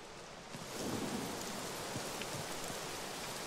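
Rain falls in the survival video game Scum, a soft, even patter of drops that thickens after the first half second and then holds steady at low volume, with no voices.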